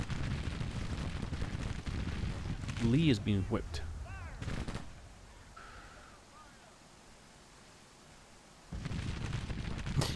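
Artillery cannon fire in the Grand Tactician strategy game, with several booming shots and crackling battlefield noise under people talking over voice chat, fading to a quieter lull before the rumble picks up again.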